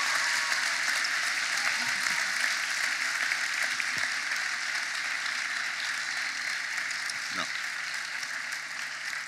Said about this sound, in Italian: Facciamo un altro applauso perché merita.